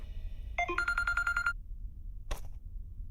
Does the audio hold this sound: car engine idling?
no